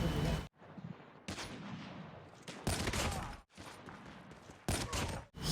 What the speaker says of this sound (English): Here are some shots that you can do with these sniper rifles.